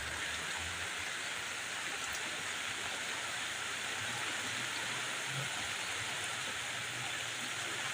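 Rain falls in a steady, even hiss that never changes, a constant wash of sound with a faint low rumble beneath it.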